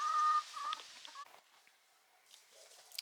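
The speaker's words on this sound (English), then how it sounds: "The chickens are getting ready to go in." A few soft chicken clucks and short bird calls, moderately close, fading into quieter scattered clucking against a light outdoor background at dusk.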